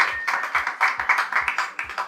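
An audience claps for the dancer Nadège at a lively celebration, a close, dense run of sharp hand claps in quick, slightly uneven rhythm with no talk over them.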